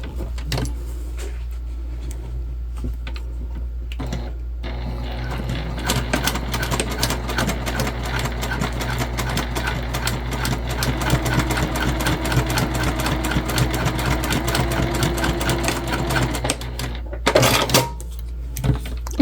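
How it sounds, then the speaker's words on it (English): A sewing machine top-stitches a seam on a handmade backpack. After a quieter start there is a steady, rapid run of stitching for roughly twelve seconds over a low hum, ending in a brief clatter. "we're going to go ahead and top stitch"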